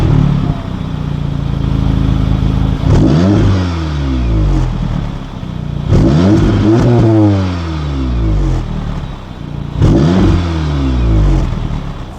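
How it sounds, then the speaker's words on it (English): An Audi S3 with four exhaust outlets accelerates hard through the gears, its engine note rising in repeated sweeps with short dips at each shift, loud and close from inside the car. "the exhaust hasn't got a stupid note to it, even though there's 4 of them"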